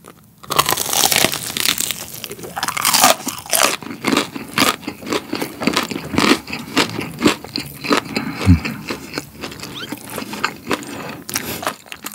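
A crunchy corn dog is eaten close to the microphone, and loud crisp bites and crackling chewing repeat steadily throughout.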